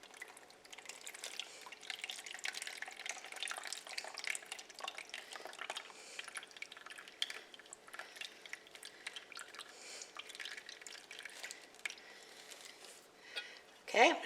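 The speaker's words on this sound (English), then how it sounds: "I'm going to drain it, put the juice in a dish" Pineapple juice being drained from a can into a dish: a soft, continuous trickle and drip of liquid, faint and close, ending with a small clink.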